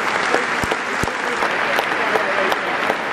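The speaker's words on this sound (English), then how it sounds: "We will now pay tribute to Sir Bobby with a moment's applause" Steady applause from a football stadium crowd at a Brentford versus Chelsea London derby, paying tribute to Sir Bobby, dense and continuous with a few sharper claps standing out near the listener.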